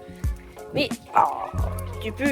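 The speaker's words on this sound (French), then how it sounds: "Le chien que vous venez de voir, hein, c'est le chien du voisin." A neighbour's dog that roams the neighbourhood yips and whimpers in short close bursts, mixed with a person talking nearby.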